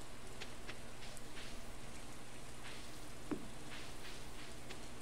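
Steady rain falls in the farming game Stardew Valley, a constant soft patter and hiss with faint scattered drops, carrying on evenly and alone at a low level.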